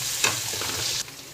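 Crushed ginger and garlic hit hot oil with a brief loud hiss, then sizzle steadily while being stirred, close by with no talking, ending in a sudden drop to a quieter fry.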